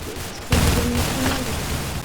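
Rapid automatic gunfire in the Roblox shooter Arsenal erupts after a quiet half-second, then rattles on loudly and steadily through the rest of the moment with no talking.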